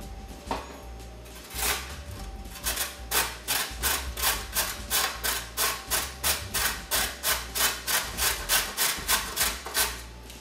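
Carrots being grated by hand for a quinoa kale salad, a steady run of rhythmic rasping strokes that speeds into a regular back-and-forth pattern, close and fairly loud with no talking.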